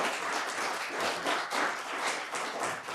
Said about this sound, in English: let's give the candidates a round of applause